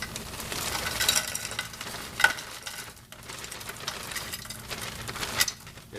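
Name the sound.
onions sizzling as they fry in a hot pan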